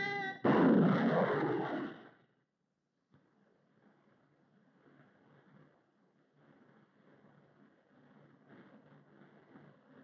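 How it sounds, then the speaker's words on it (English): 5-inch HVAR rockets launching a scale replica of the F-104 straight thin wing: a loud, close roaring blast for about two seconds, cut off abruptly, then a faint, rough, wind-like rushing that lingers quietly. "5-inch high-var rockets were used to impel a scale replica of the F-104 straight thin wing through the air at supersonic speeds"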